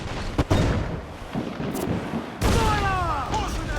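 Deep, booming ship cannon fire from the naval battles of Assassin's Creed IV: Black Flag erupts in heavy blasts, a couple of strong bursts over a continuous rumbling roar, with a voice speaking over the later part.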